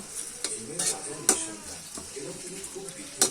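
Turmeric and chili being stir-fried in a pan while fish is cooked, with a utensil scraping and clinking against the metal in uneven strokes over a soft sizzle, fairly close, with a voice talking underneath.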